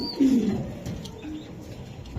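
Racing pigeons coo close by at a pigeon sale, a soft low call near the start followed by quieter murmurs and light background noise, with no one speaking.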